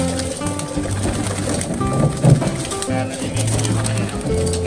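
Pigeons coo softly while bathing, over a steady wash of splashing and fluttering water, with a voice speaking intermittently in the background.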